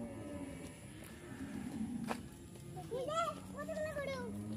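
Cattle on a dairy farm in Savar low in the distance, several short wavering moos overlapping, with faint voices and light outdoor background noise underneath.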